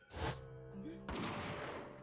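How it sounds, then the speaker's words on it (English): Gunshot sound effect from the video game The Great Ace Attorney 2, a sharp burst followed by a loud, sustained rumbling echo that fills the rest of the short clip. "a gunshot rang out from over his shoulder."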